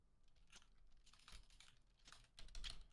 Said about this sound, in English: All of us are frantically typing right now.